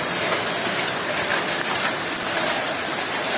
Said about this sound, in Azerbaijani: Bakıya güclü dolu yağır.